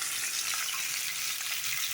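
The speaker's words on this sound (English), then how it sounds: "You'll see the leaves start to go a little bit translucent as they're frying up" Leaves sizzle and fry in olive oil in a pan with fish, ginger and garlic, a steady close crackling hiss that continues without pause and with no voices.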